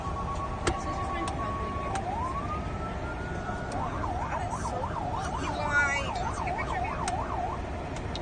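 A Code 3 RLS siren on a 2023 Calgary police car being tested: a steady tone slides up into a fast, repeating yelp that cycles loudly over a constant background hum.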